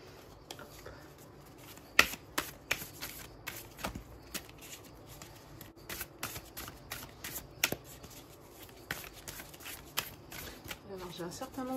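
An oracle deck of mystic shaman cards is shuffled in a run of crisp riffling and flicking card sounds, close and steady for several seconds, with brief louder snaps along the way.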